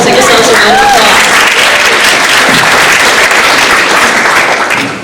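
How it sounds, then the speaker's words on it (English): A loud, close round of applause from an audience, dense and sustained clapping with a crowd murmur and a few voices underneath, fading slightly at the very end. "So give yourselves a round of applause."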